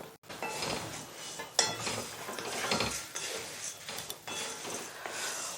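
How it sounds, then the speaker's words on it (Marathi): Flattened rice (poha) dry-roasted in a pan without oil, a fairly quiet run of repeated spatula scrapes and light metallic clinks against the pan in an uneven stirring rhythm. "आता आपण यामध्ये पोहे भाजून घेऊयात"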